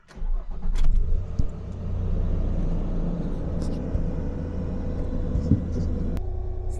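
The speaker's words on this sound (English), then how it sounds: "First start. Let's see if the engine blows up." A 2005–2019 Nissan Frontier with 216,000 miles, repaired for a cylinder 1 misfire, cranks and catches with a loud burst, then settles into a steady, close, even idle while a voice speaks briefly.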